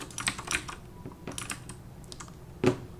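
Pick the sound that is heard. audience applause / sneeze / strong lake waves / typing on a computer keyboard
typing on a computer keyboard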